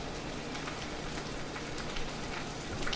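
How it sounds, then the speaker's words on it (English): Pot of water at a rolling boil on a stove, dense crackling bubbling that stays steady and close throughout. "The pot that I turned on that has the water boiling"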